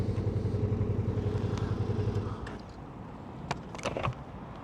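A motorcycle idles with a steady low throb as the rider stops at a pub, then cuts out, followed by faint clatters and knocks nearby.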